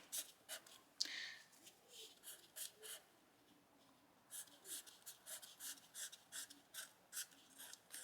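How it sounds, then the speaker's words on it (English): A blue pen writes on a handmade card: quiet, close scratchy strokes in short repeated bursts with brief pauses, faint and alone. "this is my blue pen, and that will work on this very well. So I can write"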